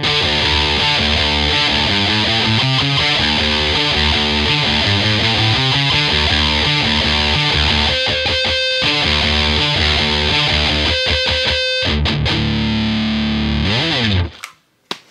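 A loud, heavily distorted electric guitar riff chugs along with chords and palm-muted notes, briefly cutting out before ringing off at the end.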